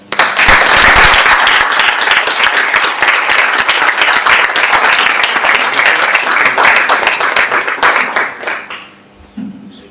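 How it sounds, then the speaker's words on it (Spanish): An audience at a poetry reading bursts into loud, sustained applause that fills the room, then fades away toward the end. "un fuerte aplauso para él"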